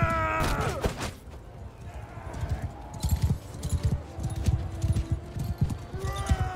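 Horse hooves in Mount & Blade II: Bannerlord, a steady rhythmic clip-clop of galloping close by, with a short whinny-like burst near the start and faint voices in the background.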